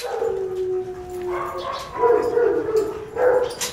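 Several dogs gathered in a socialization group yelp, whimper and give short howl-like cries at close range, mixed with some background talk.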